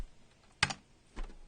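Two short bursts of keystrokes on a computer keyboard while entering a Source engine console command: a crisp cluster of close clicks, a brief gap, then a softer second cluster, in a quiet room.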